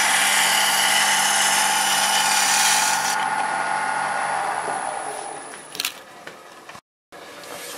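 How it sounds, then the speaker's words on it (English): A negative rake scraper cutting spinning wood on a lathe, a loud steady broadband hiss and whine that fades as the tool eases off, ending in a brief clack, a sudden silence and then a low motor hum. "I find negative rake scraping to be a little bit less risky"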